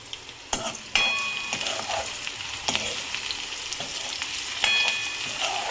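Chopped onion with asafoetida sizzles and fries in a pan while a spoon stirs it, giving steady close frying noise broken by several sharp scraping knocks against the pan.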